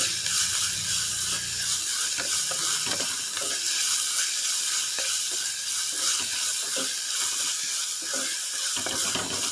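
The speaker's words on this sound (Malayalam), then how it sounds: "ഇഞ്ചിയും വെളുത്തുള്ളിയും ചെറിയ ഉള്ളിയും നന്നായിട്ടൊന്ന് വാടി വരണം ഒരു ഗോൾഡൻ ബ്രൗൺ കളർ ആവുന്നത് വരെ ഒന്ന് വഴറ്റി കൊടുക്കണം" Ginger, garlic and shallots sauté in a pan for Kerala-style rasam, a steady loud sizzle broken by repeated scraping and clinking as a spoon stirs them, with no talking.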